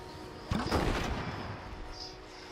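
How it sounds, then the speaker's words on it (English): A cannon fires once in the video game It Takes Two, a sharp booming blast followed by a rumbling tail that fades slowly over a couple of seconds. "Cannon!"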